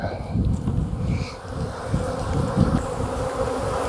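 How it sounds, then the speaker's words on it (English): Honey bees buzz densely as they are shaken off a brood frame while a pollination colony is split, a close, loud, continuous swarm drone with some wind rumble and no voices. "We're going to get all the bees out of it."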